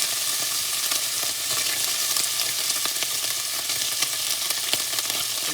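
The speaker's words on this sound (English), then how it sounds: "So now I'm going to fry up my salt pork." Salt pork frying in a pan for a cabbage dish, a dense unbroken sizzle and crackle close to the pan, with faint scattered pops and no one speaking.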